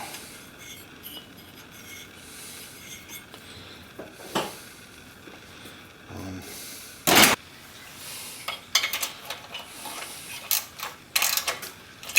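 Metal bolts threaded by hand onto the top end of a Rotax 503 engine from a Ski-Doo Formula SL snowmobile, with scattered small clicks and scrapes and a few sharper metallic ticks, close and fairly quiet, with no voices.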